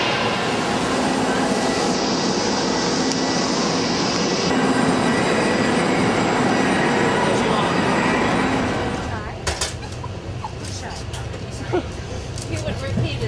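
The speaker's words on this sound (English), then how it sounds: "On the train. Definitely on the train." Steady rumble of a passenger train on a three-hour ride to Venice, loud and continuous, with the rolling noise easing slightly toward the end and light knocks over it; voices murmur at points.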